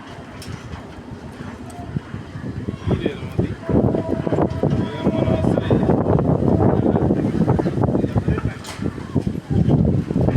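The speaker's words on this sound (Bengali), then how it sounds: "এখন এসে গেল ঠান্ডা বাতাস" Gusty wind buffets the microphone in rough, rumbling waves that strengthen after a few seconds, with voices faintly audible beneath.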